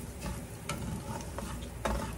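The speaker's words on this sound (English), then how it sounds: "stir this rice around" Cajun-seasoned rice stirred around a hot pan, a steady sizzle broken by several scraping strokes of the spoon, close and fairly loud with no voices.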